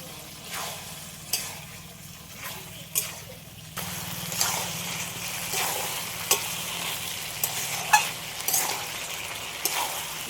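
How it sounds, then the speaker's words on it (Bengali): Potatoes, Malabar spinach and chicken giblets stir-fried in a pan, with a steady sizzle and intermittent spoon scrapes and clinks against the pan; the frying grows louder and denser partway through, and no one speaks. "এবার এর মধ্যে ভেজে রাখা আলু আর পোশাকটা দিয়ে দেবো একসাথে ভালো করে আরেকটু কষিয়ে নিই"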